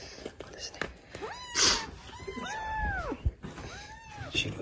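An abandoned kitten about five weeks old meows several times in thin, arching cries, close by, while a person talks softly in the background.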